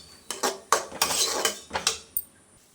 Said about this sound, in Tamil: இப்போ நம்ம அரைச்சி வச்ச தக்காளி பேஸ்ட் ஆட் பண்ணிப்போம் இப்போ தக்காளியோட பச்சை வாசனை போகிற வரைக்கும் நல்லா நம்ம வதக்கி எடுத்துக்கலாம்